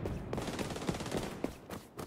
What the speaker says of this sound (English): It's only me shooting people.